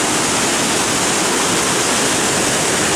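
A flooded river carries huge volumes of water past, making a loud, dense, unbroken roar of rushing water that stays steady throughout with no voices.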